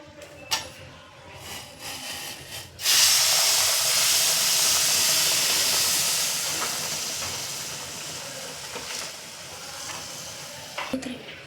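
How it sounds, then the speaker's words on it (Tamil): Hot water poured into roasted semolina in a hot pan makes a sudden loud, steaming hiss that slowly fades into a softer sizzle, with a few small clicks near the start and end. "நம்ம இந்த தண்ணி எடுத்து ரவையில் ஊற்றிடலாம்"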